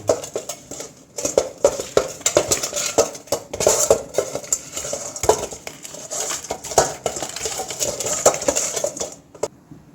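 Fish is rubbed with salt and turmeric in a dish, heard as irregular clinks, scrapes and knocks against the dish and utensils, close and fairly busy with short gaps.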